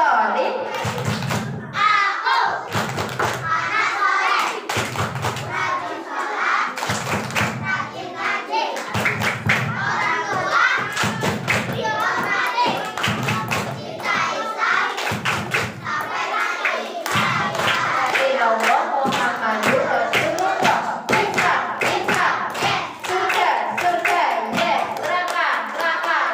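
Children in an Islamic religious class perform a rhythmic clapping chant, with regular bursts of claps and thumps repeating every second or so under loud group chanting and voices throughout.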